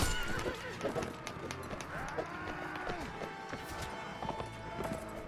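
In a Mount & Blade: Warband battle, a horse whinnies with a rising and falling cry over quick clip-clop hoofbeats, set against busy fighting noise and a moderately loud game mix.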